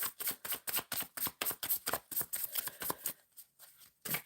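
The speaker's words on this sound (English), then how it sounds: "Shuffling for overall energy for Just Janelle." A deck of tarot cards is riffled and shuffled close by, with quick rapid bursts of flicking cards and a short pause near the end before one last riffle.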